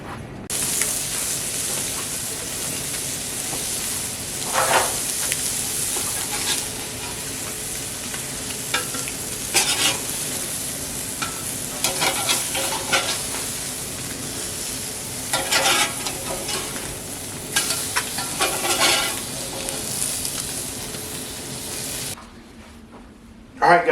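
Fish fillets fry in a hot pan with a continuous sizzling hiss, broken by repeated louder bursts and spatters as the pieces are moved or turned, then dropping away near the end.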